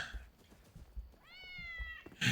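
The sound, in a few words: cat meowing in the video game Enshrouded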